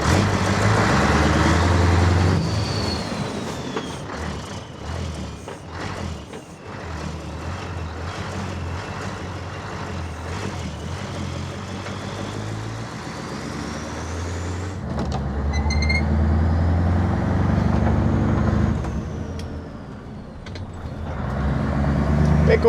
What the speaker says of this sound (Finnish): Ai että se soittaa hienosti, kun on suorat pystyhormit.